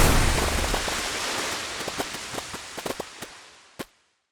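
Water bomb spell from an Unreal Engine 5 game demo: a loud splashing burst that decays into a scatter of sharp droplet-like pops and crackles, ending with one last distinct pop, with no other sounds.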